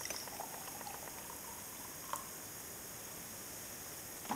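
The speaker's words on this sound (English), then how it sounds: "So I've got a beaker here and we've got some boiling water." Water boils in a glass beaker during a school chemistry practical with magnesium, giving a quiet, even bubbling hiss with a couple of small clicks.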